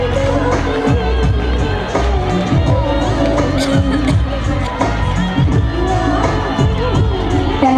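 An audience at a modelling show in Latur, Maharashtra, makes loud, dense crowd noise with cheering and shouting throughout, a constant lively roar.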